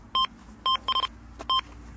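Electronic bite alarm on a carp fishing rod at a pond, sounding four quick sharp beeps in a short irregular burst, close and loud over faint background noise.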